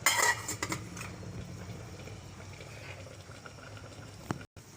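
A metal lid clanks onto a pot of simmering chicken caldereta, a sharp clatter at the start followed by a faint steady bubbling and a single small knock near the end.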